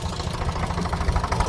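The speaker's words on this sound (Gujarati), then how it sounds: "આજે અમારા ડ્રાઈવર સાહેબ આવ્યા છે ટ્રેક્ટર લઈને ભાડે ખેડવા માટે" A tractor engine, hired with its driver to plough a field, runs at a steady idle with an even, low, knocking rumble, close and alone.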